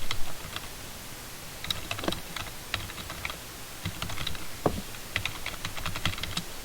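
Quick irregular clicks of a computer keyboard being typed on, close and fairly quiet, with short bursts and pauses and no talking.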